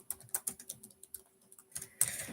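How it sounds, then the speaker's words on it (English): Keystrokes on a computer keyboard tap out in quick irregular bursts, close and crisp, with short pauses between runs and a faint steady hum beneath. "I'm typing it right here for you guys."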